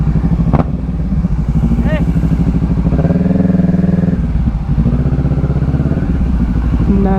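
A Honda adventure motorcycle engine is revved up and down in a few rising bursts over a rough idle, heard close and loud, while someone talks over it.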